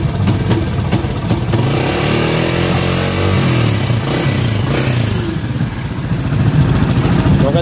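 Kawasaki Barako 175 motorcycle engine running nearby and loudly, misfiring with its headlight switched off, giving an uneven, sputtering idle that carries on throughout.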